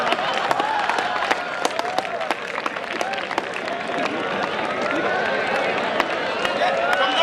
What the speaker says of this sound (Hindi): कमजोर तालियां बजा रहे हो आप लोग